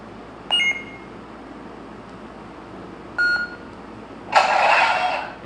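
A Graflex lightsaber build cycles through sound fonts: short electronic chirps, then a bright, noisy power-on burst that rises and sustains for about a second, loud and close with no talking.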